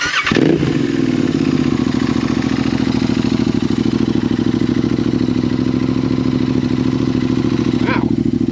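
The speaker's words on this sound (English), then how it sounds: "First startup, DNA air filter and TEC Stinger." A Royal Enfield Continental GT motorcycle with a 2-into-1 TEC Stinger exhaust and DNA air filter cranks and fires up, then settles into a loud, throaty, rapidly pulsing idle through a deep exhaust, close by.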